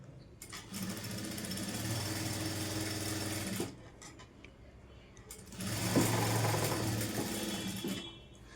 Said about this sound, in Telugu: ఇలా పెట్టుకొని 1/2 ఇంచు ఇలా బార్కి స్టిచ్ వేసుకుంటూ రావాలి.